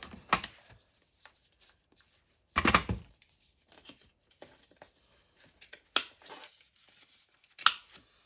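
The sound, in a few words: rounding the corners of a paper card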